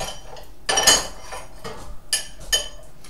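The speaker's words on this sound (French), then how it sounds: "Donc de temps en temps, je remue." Chocolate cream is stirred in a pot on an induction hob, giving a few spaced metallic clinks and scrapes of utensil against the pot, close and fairly crisp, with no talking.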